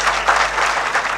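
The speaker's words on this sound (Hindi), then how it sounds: "अब ताली नहीं बजे तो आपकी गलती है फिर।" An audience at a children's day prize ceremony claps, a dense, even burst of applause from many hands that fills the short moment.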